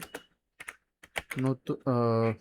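Computer keyboard typing in a bursty rhythm of quick clicks, with a voice speaking over the taps partway through.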